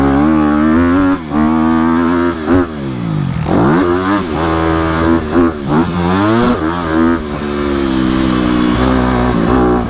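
A 2020 Honda CRF250RX dirt bike engine, loud and close, revving repeatedly with rising and falling pitch sweeps over a steady running drone.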